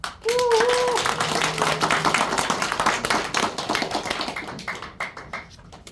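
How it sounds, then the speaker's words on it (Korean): Audience at a Korean community gathering opens the event with vigorous clapping, loud and close with distinct individual claps, while a brief voice rises over the start; the clapping thins out toward the end. "힘찬 박수로 활짝 열겠습니다"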